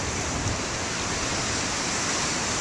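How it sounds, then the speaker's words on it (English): Steady rain falls as a dense, even hiss with no break, loud and close, and no one speaks. "It's been raining ever since, but it will go back to snow."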